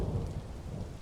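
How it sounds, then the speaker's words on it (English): Thunder rumbling during a thunderstorm in the video game Vintage Story, a deep low roll layered over steady rain, loud and continuous for the whole second with no voices. "Thunder during a thunderstorm."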